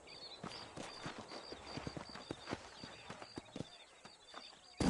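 Horse hooves clip-clop at a walking pace in the Western video game Red Dead Redemption, soft and fairly distant, with an uneven rhythm of light thuds and a louder bump at the very end.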